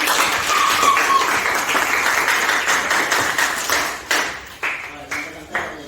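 Classroom students clapping their hands, a busy burst of applause that breaks into a few separate, sharp claps near the end.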